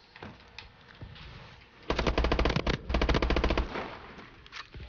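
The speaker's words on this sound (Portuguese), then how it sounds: "Nossa, essa arma realmente não dá pra segurar o dedo." Automatic gunfire from a weapon in the video game Call of Duty: Advanced Warfare multiplayer, with two sustained rapid bursts of shots close and loud over quieter game background.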